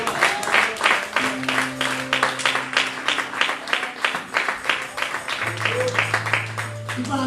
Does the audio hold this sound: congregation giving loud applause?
yes